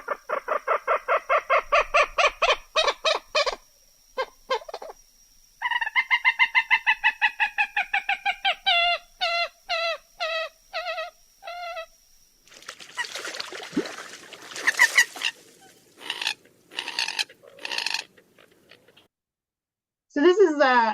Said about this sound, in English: Their vocalizations are a series of clucks that end with some long whining notes, very distinct when you hear them.